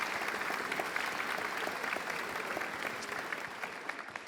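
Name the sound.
audience applause for panel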